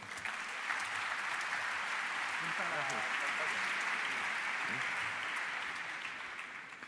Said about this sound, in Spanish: Un fuerte aplauso para Fernando.